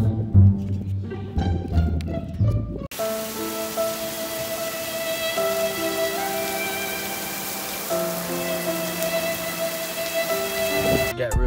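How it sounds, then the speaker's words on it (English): Steady rain falls outside a car during a prank on a parent, a broad hiss of drops that runs on evenly with sustained tonal hums underneath and no voices. "I put that clip in there when it started raining"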